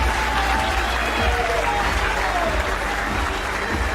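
Bowling arena crowd at a pro bowling US Open stepladder match in Indianapolis, loud sustained applause and cheering from a large audience, dense and continuous throughout, a commentator's voice faintly mixed in.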